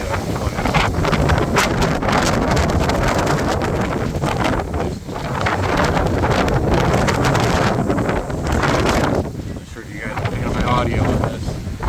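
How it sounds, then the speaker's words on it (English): Strong wind from Hurricane Helene in southwest Cape Coral, Florida, blasting the microphone in a loud continuous roar with gusty surges and a brief lull near the end. "It was so windy."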